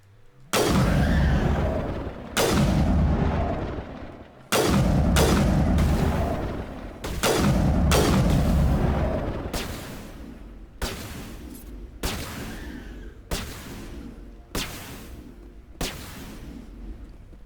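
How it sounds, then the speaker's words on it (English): Video game gunfire from Mass Effect, sustained bursts of loud automatic shots hammering a wall, broken by short pauses and then tapering into sparser single shots near the end, with no talking. "Stop shooting the wall."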